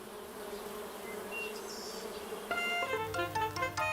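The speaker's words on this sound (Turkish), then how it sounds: "Aslında binlerce arı yaşar kovanın içinde." Bees in a beehive hum in a continuous droning buzz in a cartoon scene, steady and moderately close, joined by brighter musical tones toward the end.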